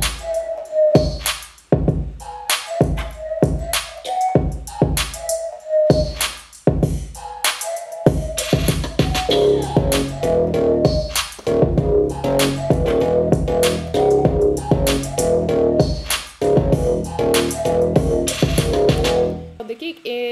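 Programmed drum beat in an R&B track, punchy kicks and snappy hits sounding alone at first, then joined by a bouncy melodic synth line as the pattern loops steadily and loudly.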